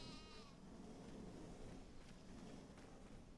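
Sheep bleat in the video game Farming Simulator 25. The calls are faint and wavering, blended into a steady, quiet background ambience.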